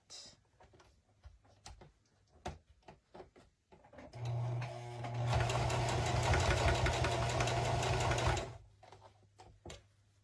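A sewing machine stitches through three layers of thick felt for a snowman hat, a steady rapid mechanical whir lasting about four seconds after scattered clicks and handling noises.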